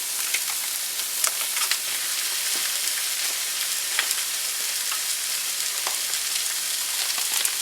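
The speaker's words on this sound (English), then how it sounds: "I'm going to dump in our meat. So there's our pound of pork." A pound of ground pork hitting a hot pan with Cajun seasoning, a loud, dense, continuous sizzle and crackle with scattered sharper pops, steady throughout and alone.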